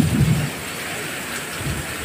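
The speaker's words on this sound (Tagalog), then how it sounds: "Pero grabe po, napakalakas po ng ulan na to." Very heavy rain pours down in a downpour that leaves people stranded: a loud, steady, dense roar of rainfall with no voices.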